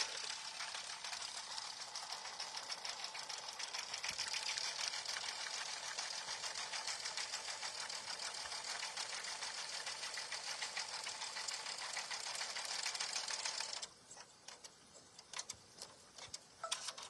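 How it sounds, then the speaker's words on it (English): Embroidery machine stitching a patch design in gray thread, a fast steady mechanical chatter of needle strokes running for about fourteen seconds before stopping abruptly, leaving faint clicks. "So I'm just going to stitch it with the color that I have in the machine, which is this gray."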